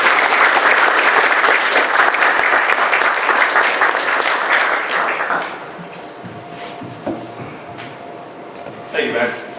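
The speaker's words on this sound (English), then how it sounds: "So please give a round of applause to Nelson Davis to come up stage." Dense, loud audience applause at an airsoft meetup stage presentation at IWA Outdoor Classics 2019 fills the first half, then thins to scattered claps and fades as the room quiets.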